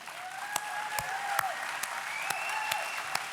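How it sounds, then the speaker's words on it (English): An audience at a political dinner event applauds standing veterans and first responders, a broad wash of clapping with sharp isolated claps poking out and a faint sustained tone underneath. "would you stand and let's give you a round of applause"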